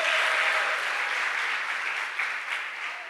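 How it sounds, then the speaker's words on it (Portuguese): A church congregation applauds during a celebration service, a dense, even wash of clapping that stays steady for about three seconds and eases slightly toward the end. "Você pode aplaudi-lo e ficar de pé nessa noite."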